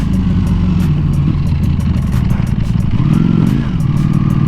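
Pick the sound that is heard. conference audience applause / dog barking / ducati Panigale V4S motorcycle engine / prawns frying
ducati Panigale V4S motorcycle engine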